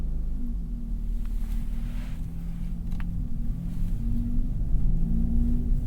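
A 2021 Hyundai Elantra N Line with a manual gearbox drives on an open road, its engine a steady close rumble from inside the cabin, rising briefly as it revs under a constant bed of road noise.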